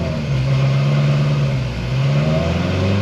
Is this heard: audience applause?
no